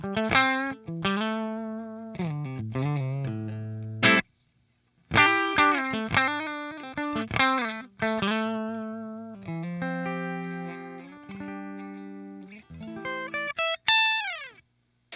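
Electric guitar on the bridge pickup played through a Revv Generator 100R amplifier at about half volume with no reverb, gritty distorted tone: strummed chords and single sustained notes in short phrases, separated by brief pauses.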